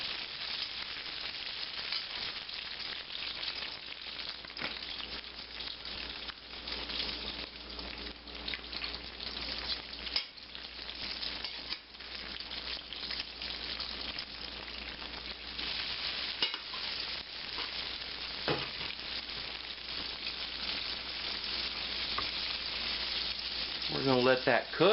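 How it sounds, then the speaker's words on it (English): Double-coated chicken fried steak sizzles steadily in hot oil, a continuous dense crackle that holds for the full stretch, with a few brief handling clinks near the end. "He's double coated. And he's ready to go in the oil."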